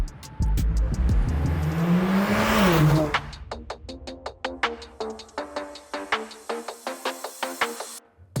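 Mercedes-AMG A 45 S 4MATIC+ accelerating, engine roaring and climbing in pitch, then shifting into a rapid series of sharp crackling pops and bursts from the exhaust, loud and close.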